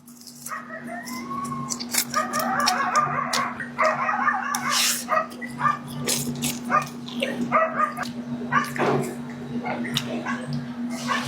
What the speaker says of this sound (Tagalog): Ang ingay ng mga aso eh.